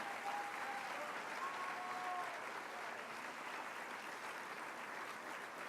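Sustained applause from an audience for the Inmaculada Concepción choir group at an education congress, a steady dense clapping that holds evenly throughout without pause.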